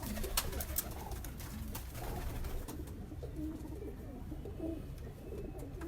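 Pure breeder pigeons in Lahore coo softly in low, repeated murmurs over a steady background hiss and scattered rustling, fairly close but quiet.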